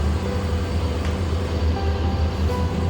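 The Garib Rath Express pulls out of Guwahati station at night, giving a continuous loud low rumble and rolling drone of the train in motion with no talking.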